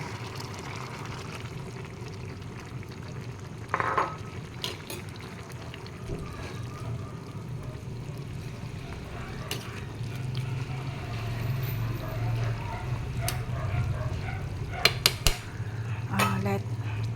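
Pork liver added to a pan of igado with green peas, giving a soft continuous cooking rumble with scattered clinks of a utensil against the pan and a few sharper knocks near the end.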